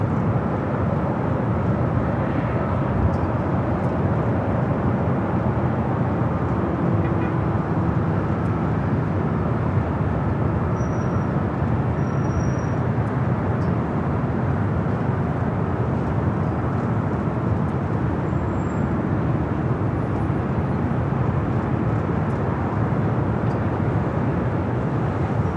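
An Avianca Airbus A320 in Star Alliance livery takes off from the north side of Los Angeles International Airport, its engines giving a steady, unbroken roar that holds loud and even throughout.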